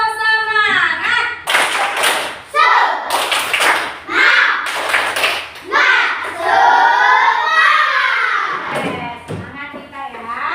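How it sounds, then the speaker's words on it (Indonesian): Schoolchildren repeat a spirited class clap routine, crisp rhythmic handclaps in short grouped bursts alongside loud group chanting and speech in a classroom. "Sekali lagi, nggak semangat. Tepuk semangat."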